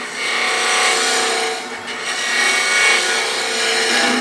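A wood lathe turns and shapes a garlic keeper box, giving a continuous loud scraping rasp of the tool cutting into spinning wood, with a brief lift near the middle before it carries on.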